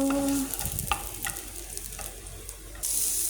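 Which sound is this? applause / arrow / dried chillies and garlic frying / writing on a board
dried chillies and garlic frying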